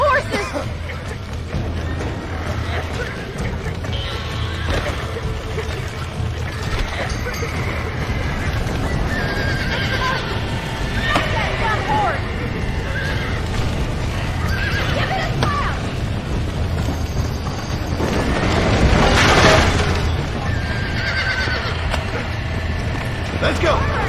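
Horses whinny and hooves clatter in a Red Dead Redemption game scene, with a dense busy bed of sound throughout and a louder burst of neighing near the end.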